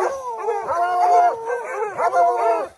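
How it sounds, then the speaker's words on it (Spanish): Several hunting dogs howl together in long, wavering, overlapping cries, close and loud, with short pauses between howls, while cornering a wild boar. "los perros, ahí está toda la raza, Irene"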